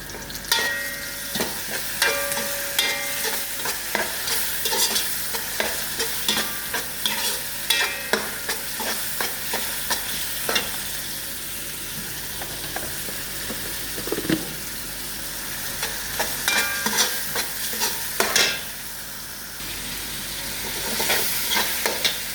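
Ginger garlic paste fries in a hot pan with a continuous crackling sizzle, broken by frequent scraping strokes of a spoon stirring it, close up and without voices.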